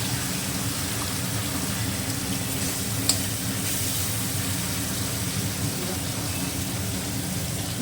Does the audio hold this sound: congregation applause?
no